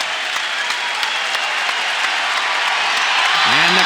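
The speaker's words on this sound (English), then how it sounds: "the crowd loving what they see at the end of the first period." Crowd applause at a Big Ten college wrestling match at 141 pounds, greeting the end of the first period; loud, steady clapping fills the short stretch, with a brief tonal sound near the end.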